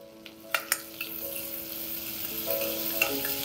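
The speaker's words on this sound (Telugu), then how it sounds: "ఇది వేగంగానే ఇందులోకి ఉల్లిపాయలు వేసేస్తాం" Onions going into butter with toasted cumin seeds for Mumbai street-style pav bhaji, a steady close sizzle with a few sharp clinks of a spoon against the pan early on.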